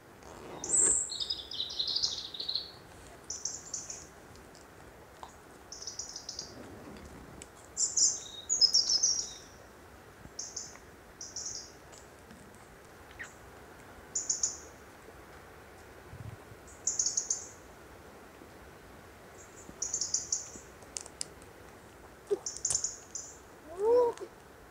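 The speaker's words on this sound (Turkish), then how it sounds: "Kuş sesini duyabiliyor musunuz?" Birds sing in Göynük Canyon near Antalya, with bright chirping phrases repeating every second or two throughout, moderately close, over a faint steady outdoor background.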